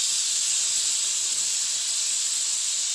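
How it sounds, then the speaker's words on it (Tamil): A pressure cooker cooking urad dal lets out a continuous, loud, high-pitched steam hiss that stays even and unbroken throughout, with no other sounds. "இப்போ இதுக்கு வந்து நான் ஒரு 5 விசில் வச்சு வேக வைக்க போகிறேன்."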